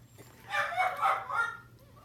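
Puppies yip and bark in a brief high-pitched burst somewhere nearby in a home while a miniature chest of drawers is being made, fairly faint and without talk over it.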